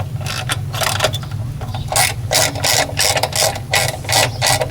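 Screws are snugged down by hand, fastening a plastic part to metal on a Generac generator mixer assembly: close, repeated bursts of ratcheting and scraping clicks in quick rhythmic strokes over a low steady hum.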